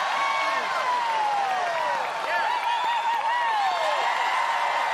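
A large arena crowd at an American Ninja Warrior finals in Philadelphia cheers, whoops and claps continuously, loud and dense, with voices blending into the roar.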